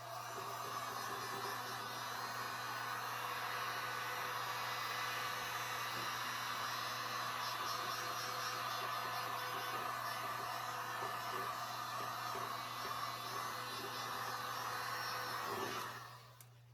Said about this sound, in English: I gotta heat up the resin.